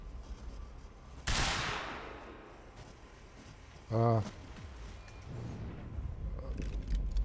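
Gunfire in the video game Quantum Break: one sharp, loud burst of shots rings out near the start and fades into a rumbling tail. A shorter blast follows later over a low in-game ambience.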